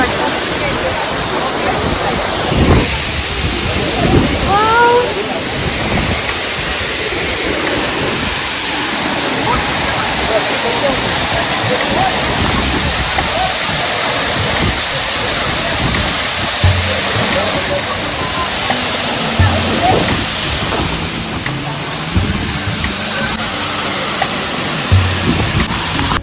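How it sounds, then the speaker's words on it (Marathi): Ashoka waterfall roars in heavy rain, a loud, constant rushing wash of water close by that never lets up, with a voice briefly audible early on. "आपण अशोक वॉटरफॉल जवळ आहोत."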